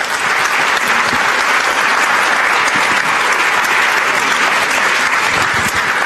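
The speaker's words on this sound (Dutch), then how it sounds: "Mag ik een applaus?" Steady, dense applause from a large audience at the opening of a free-speech festival, loud and sustained throughout with no talking over it.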